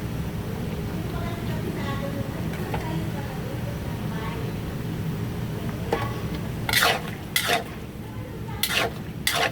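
Kangkong stir-fried in a pan gives a steady sizzle, with a few sharp clinks of a utensil against the pan near the end, over a constant background hum.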